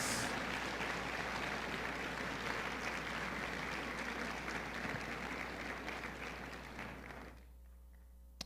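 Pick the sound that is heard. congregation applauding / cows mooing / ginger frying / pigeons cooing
congregation applauding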